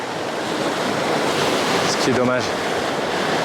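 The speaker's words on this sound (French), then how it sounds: "Il y a un peu trop de vagues, un peu trop de vent peut-être aujourd'hui." Ocean waves and wind roar steadily on a rocky shore in Thailand, a constant loud wash of surf and gusting air while someone briefly speaks French.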